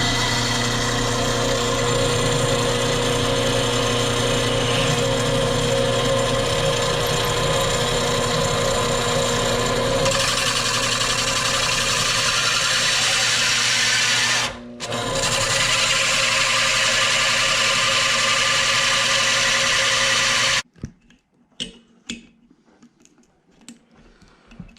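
A loud, steady mechanical whine of a power drill runs continuously, briefly dipping mid-way before cutting off, leaving quiet scattered clicks.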